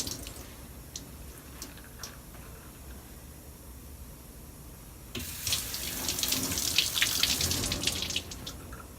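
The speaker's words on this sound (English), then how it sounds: "And rinse your arms." Quiet room tone with a few faint drips gives way, about halfway through, to a tap running as arms are rinsed, the water splashing and spattering irregularly up close until the end.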